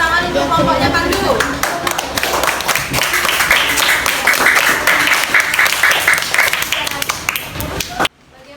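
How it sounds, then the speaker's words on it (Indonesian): Elementary school pupils applaud Pandu's group in class with loud, rapid clapping from many hands that runs for about eight seconds and then stops abruptly, with voices mixed in. "Berikan tepuk tangan untuk kelompoknya Pandu."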